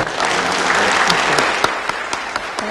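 An audience applauds Judy Woodruff and Al Hunt at a talk event, a full dense round of clapping that holds steady and then thins into scattered individual claps.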